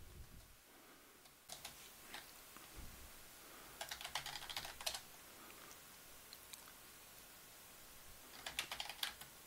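Soft clicking comes from a computer keyboard in brief irregular clusters, faint and close against a quiet background hiss, with no one talking.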